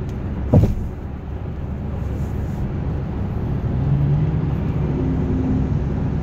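A car drives along the road heading out of Nashville, with steady broadband road and engine rumble throughout, a brief thump near the start and a faint rising tone later, no talking.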